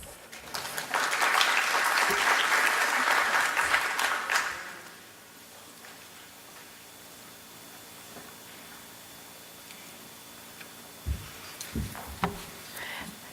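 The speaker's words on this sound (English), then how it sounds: "Applause, please." Audience applause at a plenary session, a dense burst of clapping lasting about four seconds that fades out, followed by quiet room tone and a few faint knocks and movements.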